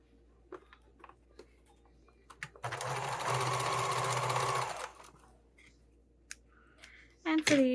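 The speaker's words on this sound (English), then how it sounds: "And sew right along my line." A sewing machine runs in one steady burst of about two seconds, stitching a dart along a marked line on a slimline sling bag. A few quiet clicks come before the burst and a brief sharp scrape follows it.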